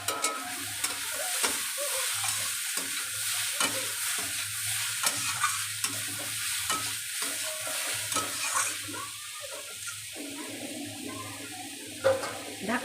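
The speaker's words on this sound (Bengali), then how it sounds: "এবারে ঢাকনাটা তুলে একটু নাড়া দিয়ে নেব।" A spatula scrapes and stirs ash gourd frying with egg in a pan, with repeated clattering strokes over a steady low sizzle and no talking.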